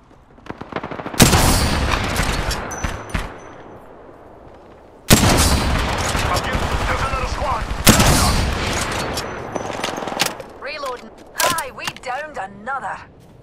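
Gunfire in the video game Apex Legends comes in loud, dense bursts of rapid shots: one long volley early, then further heavy stretches of firing and scattered shots, with in-game voices calling out over the action.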